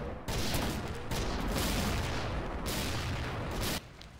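Sustained gunfire from the video game XSHOT, a dense continuous burst of shots lasting several seconds, loud and close, with a brief pause near the start and an abrupt stop at the end.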